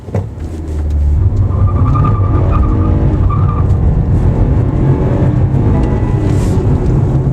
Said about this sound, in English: It revs all the way till the 2000 RPM mark.